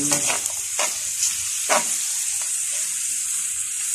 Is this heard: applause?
no